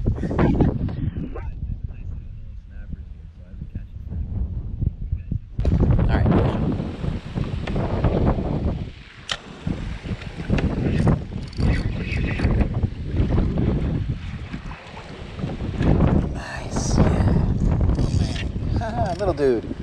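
Strong wind buffets the microphone in loud, gusting roars on a kayak in Biscayne Bay, with someone talking intermittently beneath it and water sloshing nearby.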